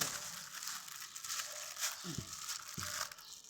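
Several layers of plastic bags, one nested inside another for salting fesikh fish, rustle and crinkle as they are handled. The sound comes close up and fairly soft, as a steady papery crackle with a few sharper crinkles.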